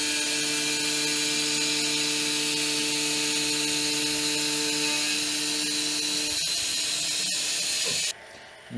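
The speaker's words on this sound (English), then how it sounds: "it's a router bit for wood, and you'll see what happens when I'm gonna cut all of them at once" A CNC machine cuts several parts at once with a wood router bit, with no coolant, giving a steady loud whine with stable tones that runs evenly for about eight seconds, then cuts off suddenly into near quiet.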